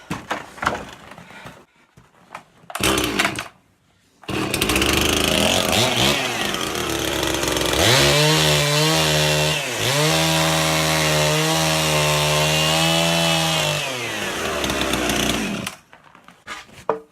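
A chainsaw cuts wooden boards outdoors at a sugar shack. The engine sputters briefly, then revs up and holds a loud, steady whine through a long cut before idling down and stopping.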